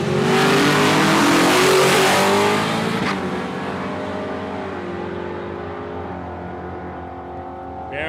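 VH Commodore drag car launching down the strip at Palmyra Raceway, Australia: a loud, close engine roar climbing in pitch, then dropping and fading steadily as the car pulls away into the distance.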